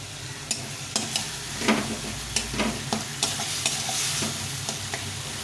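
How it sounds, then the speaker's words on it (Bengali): Chopped tomatoes cook down with spices and a little water in a pan, giving a steady sizzle with repeated spatula scrapes and taps at a regular rhythm. "এই এক বাটি টমেটো কুচি দিয়ে ভালো করে কষিয়ে নেব"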